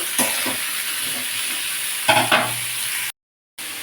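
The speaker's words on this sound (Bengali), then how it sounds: "আর আলুর সাথে আর একটু নাড়াচাড়া করে নেব" Diced papaya and potato stirred in a frying pan: a steady sizzle with a few scraping stirs, then a brief silent gap before the frying resumes.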